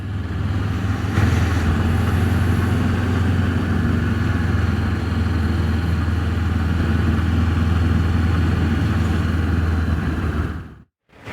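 Several motorcycles, a Honda CB500X, a Honda Hornet and a VX800, ride together with a steady, loud engine drone and road rush for about ten seconds before it cuts out abruptly at the end.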